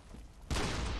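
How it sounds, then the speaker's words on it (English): A single cannon shot in the video game Bloodborne erupts halfway through as a broad, sustained burst of noise after a quiet lead-in, with no talk. "That was the weakest cannon shot ever"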